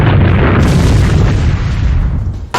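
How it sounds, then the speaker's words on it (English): A sustained, loud low rumbling boom from an earthquake attack in the Manamon 2 video game, filling the clip for over two seconds and cutting off abruptly near the end. "Faux quake machine used earthquake"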